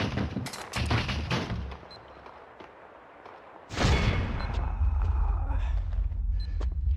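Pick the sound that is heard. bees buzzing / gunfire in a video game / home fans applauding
gunfire in a video game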